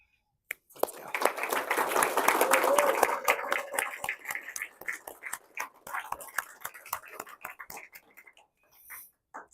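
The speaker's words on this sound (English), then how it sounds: "I want to give a warm applause to them for all the hard work they've done this year." A conference audience at BSides Idaho Falls breaks into applause, starting abruptly, swelling to a dense full-room clapping and then thinning into scattered individual claps before fading out.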